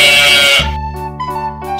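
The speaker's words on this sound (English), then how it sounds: "Sheep." One loud, close sheep bleat rings out briefly before bouncy children's music carries on.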